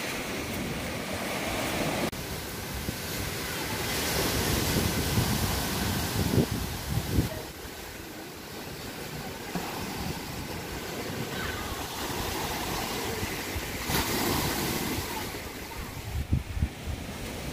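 Ocean waves at high tide on a beach at a Lovina resort in Bali roll in as a continuous wash of surf with gusts of wind buffeting the microphone, surging louder at intervals.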